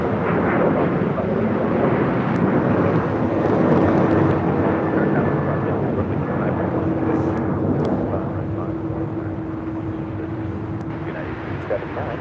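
An Atlas Air jet taxis at LAX, heard as a steady, broad engine roar with a faint whine running throughout, moderately loud and continuous without pause.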